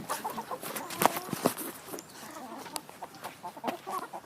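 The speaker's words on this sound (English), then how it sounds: "Joseph, there's a chicken above your head!" A chicken clucks nearby in a string of short, uneven clucks, with a couple of sharper knocks early on and light background rustling, no speech.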